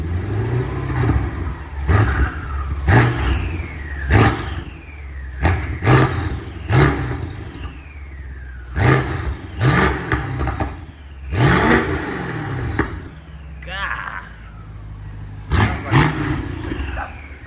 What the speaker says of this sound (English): Small revs.